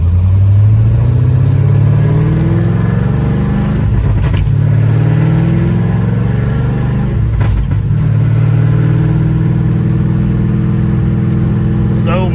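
An LS-swapped Chevy S10 pickup with a T56 manual transmission on a test drive, its V8 revving up through the gears with a deep rising drone, short dips at the shifts and a loud cabin rumble throughout.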